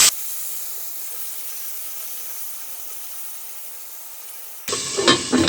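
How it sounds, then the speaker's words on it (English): Cow liver sizzles in a pan as a steady, even hiss for most of the stretch, then a louder, brighter burst of sizzling and scraping near the end as the pieces are stirred. "Let me give it a quick stir."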